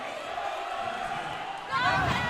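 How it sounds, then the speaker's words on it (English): San Beda home crowd in the RC gym during a college basketball game, a steady roar of voices that swells louder near the end with shouted chanting. "the San Beda crowd is letting them hear it here in the RC gym"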